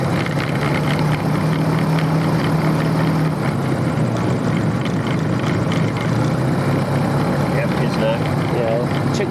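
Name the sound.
motor glider engine run-up during pre-flight check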